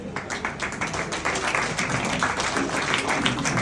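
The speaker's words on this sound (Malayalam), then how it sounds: "എല്ലാവരും കൈയടിച്ച് പ്രോത്സാഹിക്കും" A seated crowd at a family association reunion claps continuously, with dense, fairly quiet applause that holds steady throughout.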